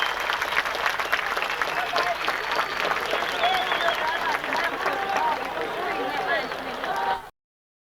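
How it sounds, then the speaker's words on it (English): A crowd at a high school homecoming football game applauds the Sardis team in a dense, sustained wash of clapping and cheering, with scattered shouts and voices through it before it cuts off abruptly. "Let's have a real good round of applause for this outstanding Sardis Line football team"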